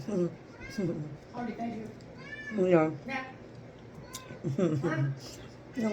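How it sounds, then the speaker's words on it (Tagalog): A cat meows repeatedly, several drawn-out cries spread across the clip, close by with faint household background. "yung pusa ko meow meow. Gusto niya kumain."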